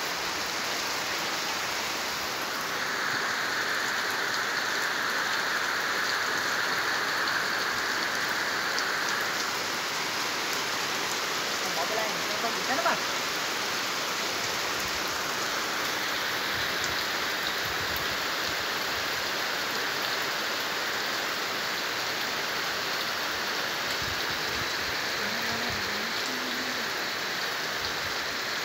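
Heavy monsoon rain pours steadily over a village in Samalvant, a dense, even hiss of downpour lasting throughout with no voices.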